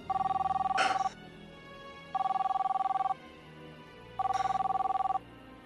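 A telephone rings three times in even bursts of about a second each, separated by short pauses, clear and fairly close, with no voices over it.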